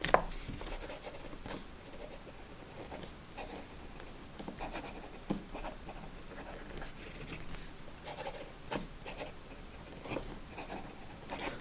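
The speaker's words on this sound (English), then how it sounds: "let's just see how the ink keeps up when you write quickly" A Lamy Safari fountain pen scratches quickly across paper in soft, rapid strokes, faint and close, with small irregular bursts as the nib moves.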